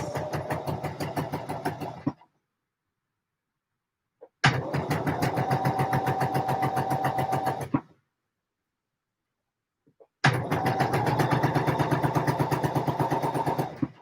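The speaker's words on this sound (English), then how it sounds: "So of course I am sewing these with French seams." A domestic sewing machine stitches lightweight polyester fabric in three steady bursts of fast, even mechanical chatter, each lasting a few seconds and separated by silent pauses, loud and close with no talking.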